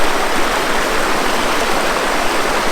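Sand River rushes beside a Lake Superior hiking trail in a steady, loud wash of flowing water, a constant close roar with no voices.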